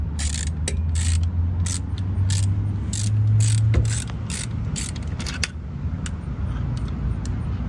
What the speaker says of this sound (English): I'm gonna go ahead and loosen it up a little bit first, so it makes it easier to put it on.